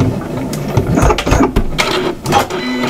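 A sewing machine back stitches at the end of an apron hem, giving a short burst of fast mechanical stitching with a rattling, clicking rhythm, close and fairly loud, with no talking over it.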